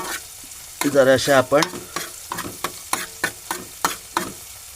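Green chillies are sautéed with a cluster bean and pumpkin vegetable in a pan. A spoon gives a series of close, sharp scrapes and knocks over a low sizzle, with a brief spoken phrase near the start.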